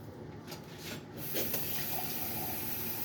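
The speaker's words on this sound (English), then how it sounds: "I'm going to add water" Water is poured into a pot of boiling water, a soft bubbling that turns into a steady, fuller rush of pouring partway through, quiet and with no talk.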